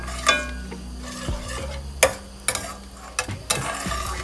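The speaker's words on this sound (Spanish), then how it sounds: "Mezclamos." A spoon stirs blueberry BBQ sauce as it sizzles in a pot, with repeated sharp scrapes and clinks against the metal at irregular intervals over a soft, steady bubbling hiss.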